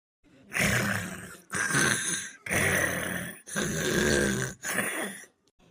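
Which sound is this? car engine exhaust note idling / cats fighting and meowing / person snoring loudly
person snoring loudly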